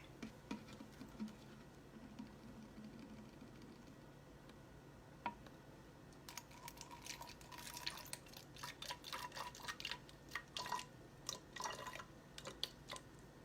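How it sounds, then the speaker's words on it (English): Water patters and splashes into a container, faint at first, then a busier stream of drips and splashes in the second half. "I'm going to fill this with some water"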